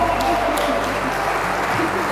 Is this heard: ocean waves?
no